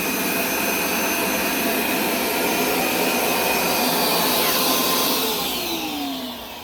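A Hoover SmartWash Pet Complete automatic carpet cleaner runs with a loud, steady motor and suction roar close by, holding constant before its pitch sags and fades slightly near the end.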